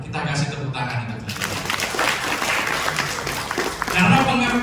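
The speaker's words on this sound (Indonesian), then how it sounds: "Kita kasih tepuk tangan itu." Applause from an audience at a Ramadan sermon in a mosque, a steady wash of clapping that runs the whole time with talk mixed in.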